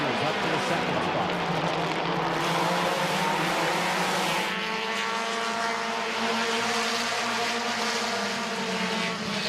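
Race cars roar past at Midvale Speedway in a dense, loud engine drone that shifts pitch as the field passes, sustained throughout with a track announcer's voice calling the action over it.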